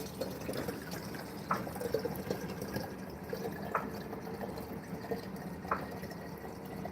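Water pours steadily with a gurgling, splashing flow and occasional louder drips, continuous and close, during an opal rescue.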